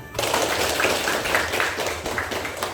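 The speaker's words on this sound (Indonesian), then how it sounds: "Tepuk tangan." Students applauding in a classroom: a burst of dense, overlapping hand claps from a small group that begins abruptly and continues steadily, close and fairly loud.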